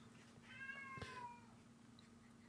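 A cat meows once, a short harmonic call near the middle, close and clear over a faint steady hum, with no talk.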